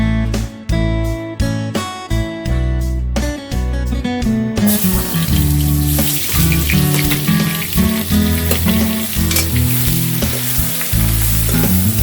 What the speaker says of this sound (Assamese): পিঁয়াজ ভাজি হৈছে প্ৰায় ধোঁৱাও ওলাইছে